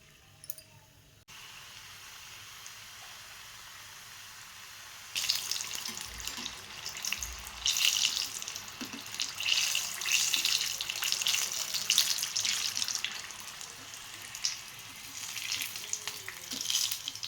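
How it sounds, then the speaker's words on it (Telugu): Samosas go into hot oil. After a few quiet seconds a loud, close sizzle bursts up and keeps bubbling and crackling steadily, with no talk. "ఇప్పుడు మనం ఆయిల్లో వేపుకుందాం."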